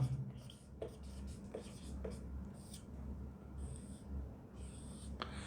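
Writing on a board during a lesson about the Sun, with faint scratchy strokes in short bursts over a low steady room hum, quiet and somewhat distant, with no clear speech.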